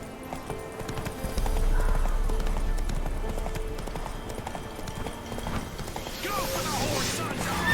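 A horse gallops in The Witcher 3, with rhythmic clip-clop hoofbeats running throughout, a neigh-like whinny near the end, and game sounds mixed in.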